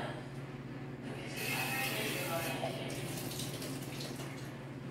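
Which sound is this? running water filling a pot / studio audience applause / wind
running water filling a pot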